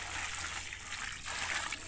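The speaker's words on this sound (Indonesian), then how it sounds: "Nah, kita siram." Grape plants are watered with fish pond water, heard as a steady, close splashing pour that continues without a break and carries no talk.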